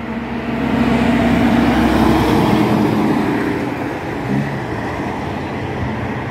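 Freightliner truck hauling sand or gravel rolls past on a coastal road, a loud, steady rumble of engine and tyres that swells and then eases as it goes by, with no talk.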